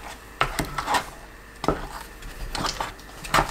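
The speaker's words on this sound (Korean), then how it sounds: "하얗던 색이 투명해질 때까지 계속 저어주세요" Sweet potato mixture being stirred in a pot over low heat, with a spoon scraping and knocking against the pot in irregular strokes, close and fairly clear with quiet pauses between.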